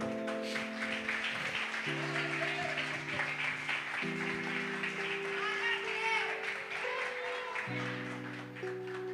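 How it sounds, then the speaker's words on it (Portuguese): A church congregation claps and cheers at a worship service, a dense wash of applause running throughout beneath sustained keyboard chords that shift every couple of seconds. "Pode aplaudir a Jesus, aplauda aí"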